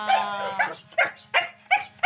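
A dog barks excitedly in a quick series of about six sharp, close barks, with brief pauses between them.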